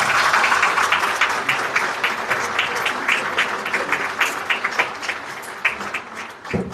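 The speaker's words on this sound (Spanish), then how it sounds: "Les pido que la recibamos con un fuerte aplauso" Audience applause welcoming a panelist at a panel on the Dominicans' arrival in Mexico; loud, full clapping at first that gradually thins into scattered individual claps before fading out.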